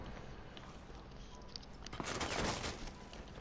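Video game gunfire in a ranked online match, a rapid burst of shots rattling out fairly faintly after a quieter stretch of ambient game noise, with no talking over it.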